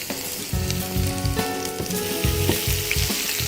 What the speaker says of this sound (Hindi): ये घी अच्छी तरह गर्म हो गया है। इसमें अब हम डालेंगे कटा हुआ लहसुन